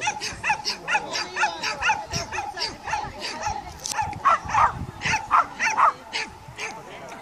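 A dog barks and yips in quick repeated bursts at a team-class agility competition in Härnösand, loud and close, with a few whimpering notes between barks.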